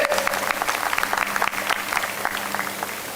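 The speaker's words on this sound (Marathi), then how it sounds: "अशा दमदार लेखकासाठी एकदा जोरदार टाळ्या होऊ देत." An audience at a prize distribution and expert talk gives an author a round of strong applause, dense continuous clapping heard at moderate distance with a low hum beneath it.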